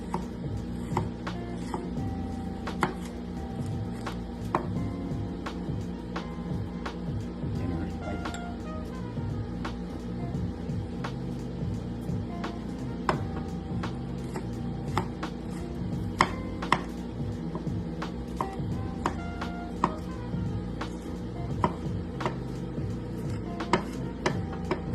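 A knife cutting vegetables into thin slices on a cutting board, with steady rhythmic close taps running throughout under occasional talk.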